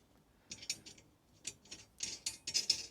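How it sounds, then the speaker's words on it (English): A bolt is tightened with a ratchet to fasten a drawer system to a steel chassis in a Hiace 4x4 van, giving bursts of quick, close metallic clicks in uneven groups. "and bolts down, which secures the drawer to the chassis"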